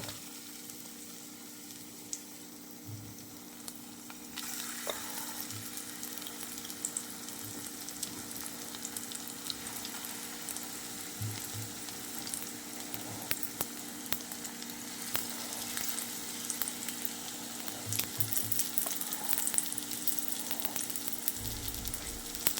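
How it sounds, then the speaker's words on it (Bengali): Potato tikkis fry in hot oil with a steady, even sizzle that runs the whole time, with faint bubbling crackles and no voices. "তেলটা গরম হয়ে গেছে। এবার আমি আলুর টিকিয়াগুলো দেব।"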